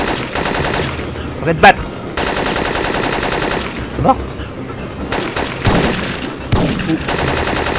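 Gunfire rattles through the video game Syphon Filter 2: loud continuous bursts with several sharper shots on top, while someone talks over the action.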